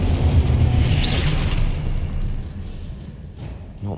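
Confringo explosion spell going off in the video game Hogwarts Legacy, a loud booming blast at the start followed by a rumbling decay that fades over several seconds, with no talking.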